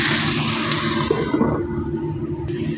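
Water is poured into a pan of simmering adobo made with chicken liver and gizzards, a loud, steady rushing splash that runs for a couple of seconds and then cuts off abruptly.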